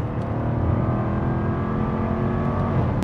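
A Jaguar F-type R's engine growls steadily under throttle, a deep continuous rumble with dense low harmonics held loud and close for the whole stretch, with no voices over it.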